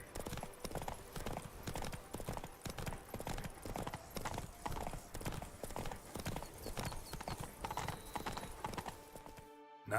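Roach the horse galloping in The Witcher 3, a fast, rhythmic run of loud, close hoofbeats with a brief whinny, continuing until an abrupt stop at the very end.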